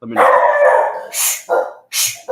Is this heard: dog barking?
yes